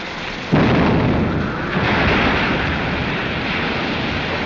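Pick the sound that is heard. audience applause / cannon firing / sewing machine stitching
cannon firing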